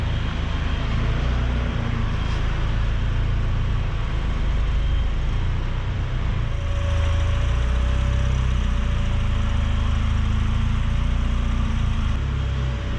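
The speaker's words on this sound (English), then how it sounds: "And the cooling fan shut off." A turbocharged 1988 Pontiac Fiero coupe idles close by with a loud steady rumble and a broadband whoosh, and the cooling fan noise changes near the middle as the fan shuts off.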